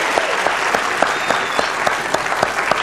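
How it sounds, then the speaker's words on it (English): A game show studio audience on Classic Concentration claps loudly and steadily, with sharp individual claps standing out regularly through the dense, close applause. "Stop applauding yourself,"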